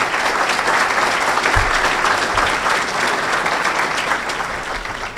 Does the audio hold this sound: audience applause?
yes